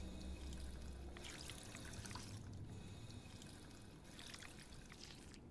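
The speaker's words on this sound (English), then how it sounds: "But first, a drink at the water fountain." Water trickling from a drinking fountain in the video game Fallout 4, a quiet, continuous stream of pouring and dribbling water heard on its own.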